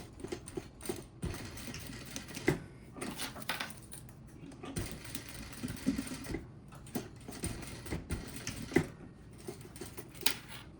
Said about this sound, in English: And just stitch on my line.